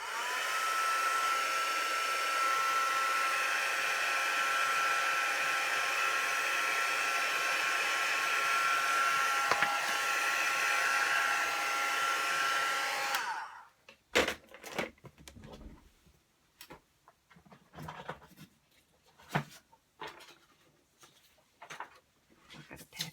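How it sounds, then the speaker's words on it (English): A handheld heat dryer blowing over VersaFine Clay stamped ink on a card, a loud steady whir for about thirteen seconds that cuts off abruptly, followed by sparse taps and handling noises. "I'm just going to dry this off, this ink of it, and then it doesn't smudge"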